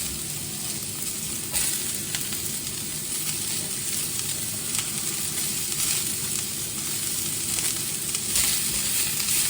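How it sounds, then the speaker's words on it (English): Red onions caramelise in a pan, a dense, even sizzle running the whole time with faint crackles and occasional stirring scrapes, close and fairly loud with no talking. "I just want to caramelise these red onions in this pan"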